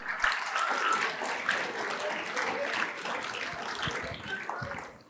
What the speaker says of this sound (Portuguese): Vamos aplaudir as palmas do pastor Deno Júnior